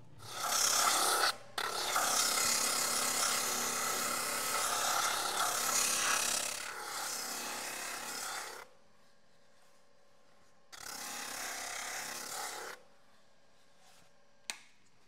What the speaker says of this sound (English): Let's go over on the Leather Machine Company sander burnisher, and we'll get this all mated up.